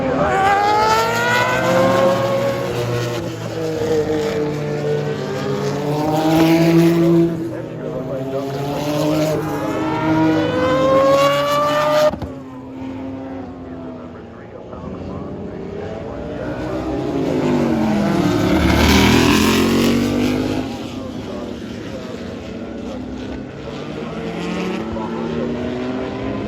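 A 1980 Porsche race car in a historic race at a track, its engine loud and near, rising and falling through gear changes, then fading briefly before another strong pass swells up.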